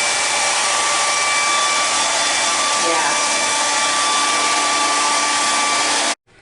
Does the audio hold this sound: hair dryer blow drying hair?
yes